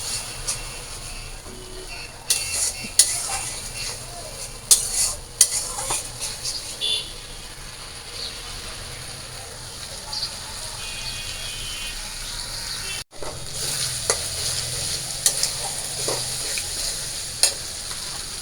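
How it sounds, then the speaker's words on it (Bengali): Masala paste fries in a pan while being stirred, a low steady sizzle running under sporadic scrapes and taps of the spoon against the pan, with some speech-like sound in the background. "তো মশলাটা আমি ভালো করে কষিয়ে নিব"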